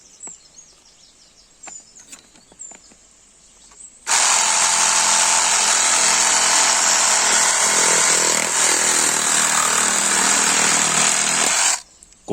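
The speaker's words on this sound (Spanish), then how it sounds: "Cogemos la máquina para cortar y vamos allá." A Hychika cordless lithium-battery reciprocating saw cuts through PVC pipe, a loud steady buzzing rasp running unbroken for about eight seconds after a quiet start, then cutting off abruptly.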